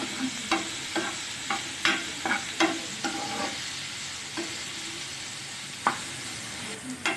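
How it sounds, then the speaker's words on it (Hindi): Finely chopped onions fry in a pan under a soft, continuous sizzle, punctuated by a string of sharp scraping clicks from a utensil stirring at an irregular rhythm, close and fairly clear with no talk. "प्याज फ्राई हो गई है"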